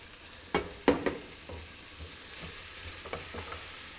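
Sliced pepper fries in a pan for a garlic and chilli pasta dish, a soft steady sizzle with a few close clacks as it is stirred.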